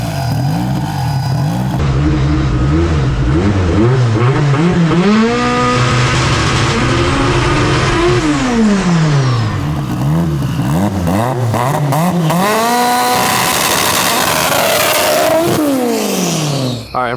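A 1000hp AWD car engine revs hard and accelerates, loud and close, with repeated rising and falling sweeps as it climbs through the gears and blips the throttle.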